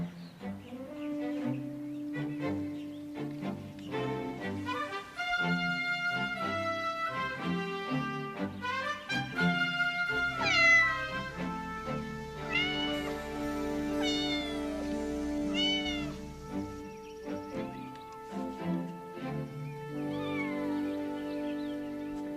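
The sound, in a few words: cat meowing, stuck in a tree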